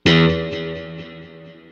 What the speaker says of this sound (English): I'll play one note so you can hear the trails.